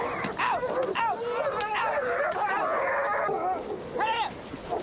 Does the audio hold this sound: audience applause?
no